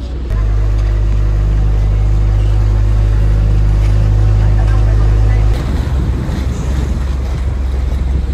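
A tour boat engine drones with a heavy, steady low hum that cuts out partway through near a lagoon, leaving wind and water noise.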